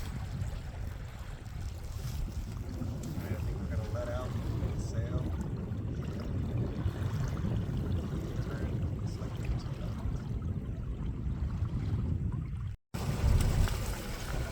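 A MacGregor 26M sailboat runs under sail in strong wind, with a continuous broadband rush of water along the hull and wind noise, a voice faintly under it and a brief dropout near the end.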